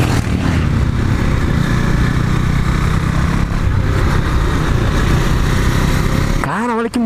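A KTM Duke 390 motorcycle runs loud and steady while being ridden on smooth pavement, its engine drone dense throughout with a brief rising whine near the end.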